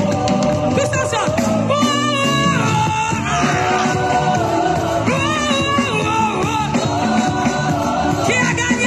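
A crowd at a lively public gathering yells and shouts together in a loud, continuous roar, with dense voices layered over what sounds like music throughout.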